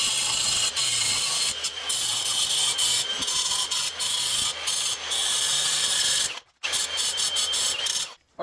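A grinder works on a metal winch bumper on a 2024 Jeep Wrangler Rubicon JL, giving a steady, harsh rasping grind close by. It drops out briefly twice and then resumes.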